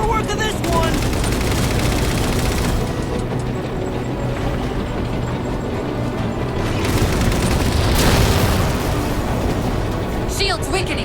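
Rapid, loud gunfire from Halo 4 combat runs without a break, with booming blasts layered in. It forms a dense, continuous barrage that swells near the end.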